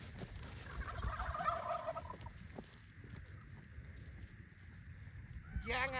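A wild turkey gobbles on the Mission Peak hiking trail in Fremont, a faint rattling burst heard at a distance outdoors amid wind and ambient noise.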